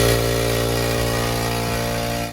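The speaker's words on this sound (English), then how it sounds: "Let's go turn the air compressor on. It's time to get loud." An air compressor running in a workshop, a steady mechanical drone with a low thumping pulse near the start, loud and continuous, cutting off abruptly at the end.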